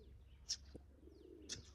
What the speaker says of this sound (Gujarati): છે આપણા કબૂતર.